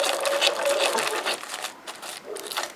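A sewing machine runs close by at its longest stitch length, stitching tissue paper into ruffles, with a steady fast mechanical whirr and clatter and brief dips, no talking.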